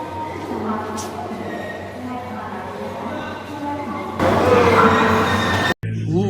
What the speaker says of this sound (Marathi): आपण रेल्वे स्टेशनवरती आपली ट्रेन लागली आता